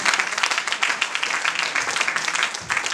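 Congregation applause acclaiming Jesus at a church seminar in Switzerland, a dense, steady wash of many hands clapping at close range for three seconds, with no clear talk above it.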